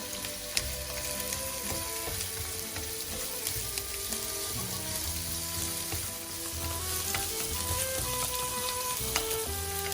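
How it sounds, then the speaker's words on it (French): Large-cut onion pieces fry in a hot pan for pineapple chicken, a steady close sizzle with occasional stirring clinks and scrapes, and no talk. "nos oignons coupés en gros morceaux. On laisse revenir."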